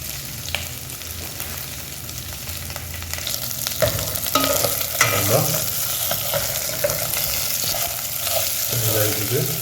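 Village-style chicken pulao frying in oil in a pot, a continuous loud sizzle with scraping stir strokes and clanks from a spoon against the vessel, close and busy throughout.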